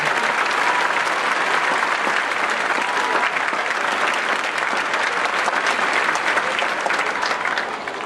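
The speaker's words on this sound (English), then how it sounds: "we want to give them a round of applause for their hard work" Audience applause for music teachers at a Kentucky all-district music event, a loud, dense and sustained burst of many hands clapping that fills the room and eases slightly at the end.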